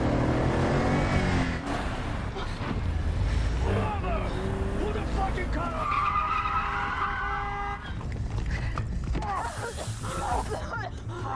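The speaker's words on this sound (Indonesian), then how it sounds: "sehingga terjadi keributan dan aksi kejar-kejaran antara Emily dan anak buah penjual mobil" A car chase scene in a film features engines revving and tires screeching in repeated skids, with loud, busy vehicle noise throughout.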